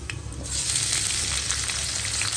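Steady, close sizzling of red capsicum frying in olive oil in a hot pan, a bright continuous crackle after a brief quieter start.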